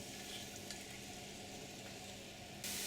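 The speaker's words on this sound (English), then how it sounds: "We're going to take our seasoning mix here, and we're going to fry this in this oil." Seasoning mix frying in about a tablespoon of sesame oil for Korean spicy beef soup, a steady close sizzle with light stirring scrapes, continuous and fairly quiet, with no talking.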